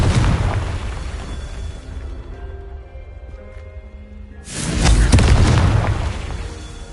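The Confringo fire spell in Hogwarts Legacy sets off a loud, deep explosion that rumbles and fades, followed a few seconds later by a second heavy blast that roars on to the end.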